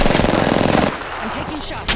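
Rapid automatic gunfire from the Apex Legends game rattles loud and close in a dense burst, then gives way to quieter weapon and effect noises with a brief thump at the end.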